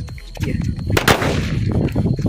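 Loud Diwali firecracker blasts and rapid crackling pops burst in quick succession, with one sharp bang standing out near the middle.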